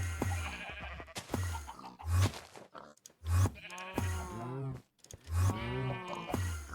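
Sheep in the Minecraft video game bleat in a string of repeated wavering cries, close and clear, with short quiet gaps between them and no talk.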